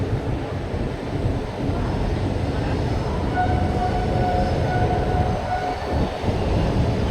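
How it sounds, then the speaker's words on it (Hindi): A train rumbles at Itarsi railway station, a steady low roar of rolling wagons with a faint high squeal partway through, continuous and fairly close under ambient station noise. "पैरेलली डिपार्चर भी हो रहा है किसी ट्रेन का भाई अपने साथ।"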